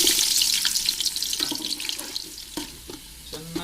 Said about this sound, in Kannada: ಲವಂಗ, ಏಲಕ್ಕಿ, ಚಕ್ಕೆ ಹಾಕ್ಕೊಳ್ತಾ ಇದ್ದೀನಿ. ಈಗ ಈರುಳ್ಳಿ ಹಾಕ್ಕೊಳ್ತಾ ಇದ್ದೀನಿ.